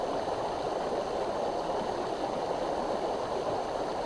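Steady rushing, gurgling flow of water from a stream pumped through a portable water filter on a mountain hike, a constant close wash with no talking.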